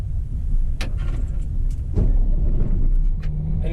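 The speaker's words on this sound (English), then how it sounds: "the crane will start correctly" A Grove TMS9000 crane's engine cranking and catching, a low close rumble that swells into a steady idle, with a few clicks and clunks over it.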